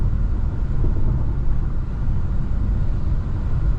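Steady low engine and road rumble from a 2024 Infiniti Q50 Luxe being driven, a constant close drone with tire noise and no sharp changes.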